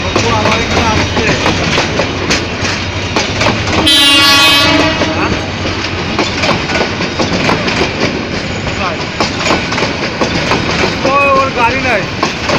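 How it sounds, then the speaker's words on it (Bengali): A train passes through a railway station, its wheels clattering steadily and loudly close by, with one long blaring horn blast around the fourth second; voices talk faintly underneath. "ট্রেন যাচ্ছে"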